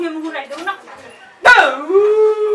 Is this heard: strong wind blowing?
no